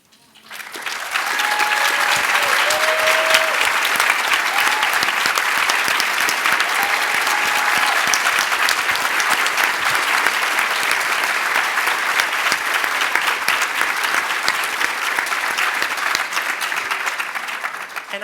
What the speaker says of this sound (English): And I can tell by that applause that every single person in this room wants to support those parents.